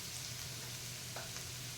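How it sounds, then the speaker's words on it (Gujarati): Chillies frying in a pan for wheat murmura, giving a steady, low sizzle with faint stirring and no talk. "બરાબર મરચાંને શેકાઈ જવા દેવાના."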